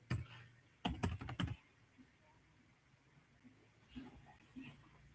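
Typing on a computer keyboard during an online blockchain talk: a quick burst of clustered keystrokes near the start, then quiet room tone and a few softer taps later, fairly close and low in level.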